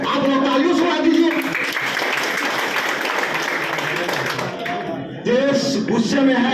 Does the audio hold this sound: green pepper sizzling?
no